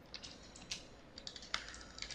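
Code being typed on a computer keyboard, with soft irregular key clicks in short runs, faint and close in an otherwise quiet room.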